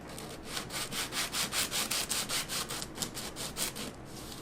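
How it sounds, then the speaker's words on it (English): Rhythmic back-and-forth sanding strokes, about four per second, a close scratchy rasp of sandpaper on the wood of a Martin 000-15M guitar, repeating steadily with no talking. "I've got some sandpaper here, and I'm just going to start very carefully sanding some of this away."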